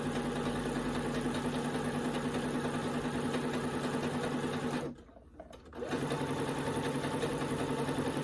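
A sewing machine runs stitching rows of gathering on a sundress bodice, a steady close mechanical whir that stops for about a second midway and then resumes at the same pace.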